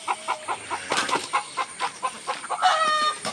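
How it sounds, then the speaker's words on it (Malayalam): A young hen on a Kerala cattle farm clucks in a steady run of short, evenly spaced calls, close and clear, with a brief rising squawk near the end and no talk. "നമ്മുടെ കുഞ്ഞിക്കോഴി കേട്ടോ"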